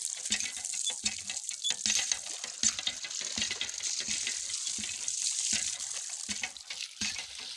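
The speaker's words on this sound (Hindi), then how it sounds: "और अब हम इसे चलाएंगे, ठंडा पानी निकालेंगे" Cold water runs from a village tap in a steady, soft splashing stream with uneven patters, fairly close and with no talk over it.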